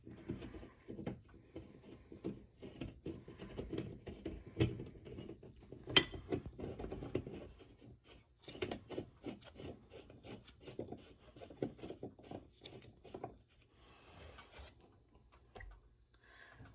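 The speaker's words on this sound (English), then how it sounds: "So just screw it on there." A water heater supply line being threaded by hand onto its fitting: close, gritty rubbing and rasping twists come in short irregular bursts, quiet, with no talking.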